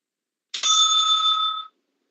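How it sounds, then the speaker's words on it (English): A single bright ring of a timekeeper's bell at a debate round, one clear metallic strike that sustains for about a second and fades, alone in quiet. "The timekeeper will ring the bell once."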